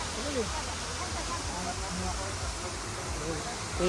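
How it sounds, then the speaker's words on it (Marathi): A monsoon waterfall at Bhandardara gives a steady, broadband rushing roar throughout, with people talking over it. "धबधबा म्हणतोय मी."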